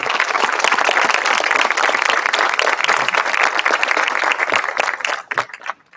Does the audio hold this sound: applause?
yes